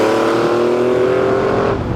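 A Lamborghini Countach 5000 QV with a carbureted V12 revs loudly and close, a dense, steady engine roar that eases slightly near the end, with no talk over it.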